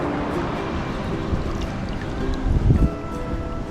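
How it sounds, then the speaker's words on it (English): Ocean waves breaking against shoreline rocks at Nawiliwili harbor on Kauai, a steady nearby wash of surf with one louder surge crashing in toward the end. "So the waves break like right where the rocks are."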